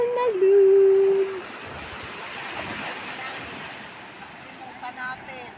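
Steady roar of big ocean surf on a beach at Morong, Bataan, with wind buffeting the microphone, a brief high-pitched voice cry at the start over the rushing water.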